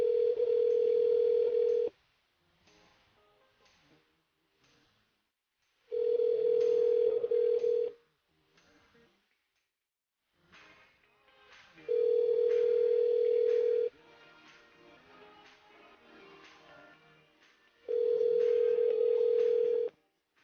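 A telephone line at a radio station's call-in switchboard sounds four long, steady ringback tones, each about two seconds long and spaced evenly with quiet gaps, alone and clearly heard.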